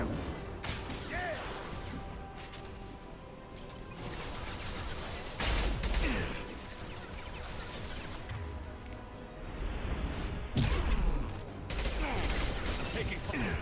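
Rapid bursts of gunfire and crashing impacts from a Mass Effect 2 firefight, dense and continuous with louder volleys throughout, and voices speaking in between.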